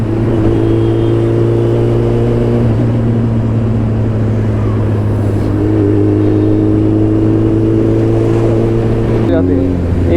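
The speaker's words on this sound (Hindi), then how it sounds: "टू ब्रदर्स एग्जॉस्ट जो हैं ये बैक फायरिंग छोड़ रहे हैं" A Suzuki Hayabusa motorcycle fitted with a Two Brothers exhaust idles and hums steadily, with a loud, close engine drone that shifts pitch once or twice near the end.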